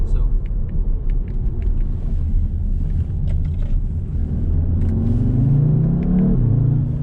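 A 2019 Audi TTS with all-wheel drive accelerates out of corners on twisty roads, giving a steady low engine rumble with rising tones near the end, close and continuous under wind noise.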